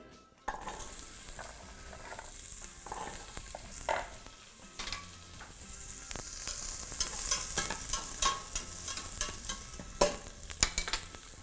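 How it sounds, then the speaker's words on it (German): Carrots tipped into a hot pot for a vegan white cabbage stew, followed by loud close sizzling and frying that builds steadily, with scraping stirring strokes and occasional clinks of utensil against the pot. "Den Karotten in den Topf geben."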